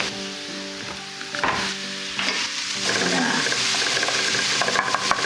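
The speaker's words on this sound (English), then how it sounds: "I'm gonna add my garlic in" Garlic sautéing in a pan, with stirring scrapes over a sizzle that grows fuller and louder after the first second or so, close and without talk.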